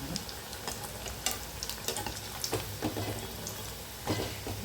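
Onion bonda deep-frying in hot oil, a continuous close bubbling sizzle with occasional stirring clicks and light splashes, no voices.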